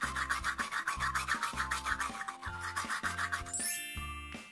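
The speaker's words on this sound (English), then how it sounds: "Let's go ahead and brush Rubble's teeth to make him feel better." A toothbrush scrubs teeth with toothpaste in quick, rhythmic back-and-forth strokes, close and moderately loud, with a bright tinkling chime at the end.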